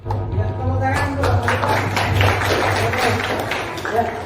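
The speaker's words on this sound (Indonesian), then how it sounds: "Oke, tepuk tangan sebentar." Audience applause at a school guidance counselling workshop, a rising wash of clapping from a roomful of people, moderately loud and steady, with low hum and a little talk mixed in.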